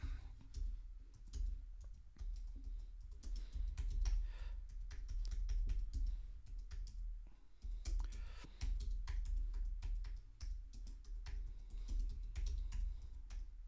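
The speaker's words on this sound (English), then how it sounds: "My typing's getting a little bit faster, a little bit less aggressive and a little bit faster" Quick typing on a computer keyboard, a fairly quiet, close string of rapid clicking keystrokes that runs on with only brief pauses.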